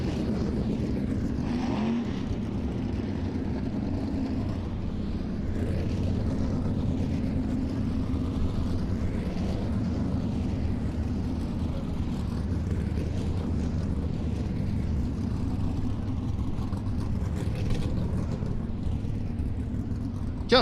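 A sprint car at Volusia Speedway runs slowly around the track under caution, its engine a steady low drone for the whole stretch, mixed with wind buffeting and no voices.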